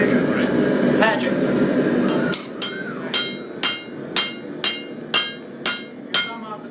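Hammer blows on hot steel against an anvil during a bladesmithing lesson, starting after a stretch of loud noise, then about eight sharp ringing strikes in a steady rhythm, close and loud, with a voice briefly speaking.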